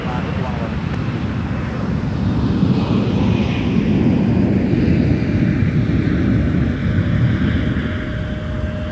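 A Key Lime Air aircraft departs the south parallel runway at Minneapolis airport in winter, its engine roar rising into a steady broad rumble at moderate distance, with wind buffeting the microphone.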